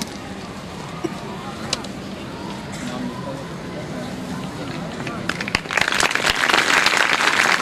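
Audience applause at a stage event in India rises near the end into dense, loud clapping after a stretch of murmuring crowd noise and scattered claps.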